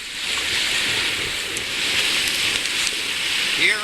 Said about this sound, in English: So we got rain.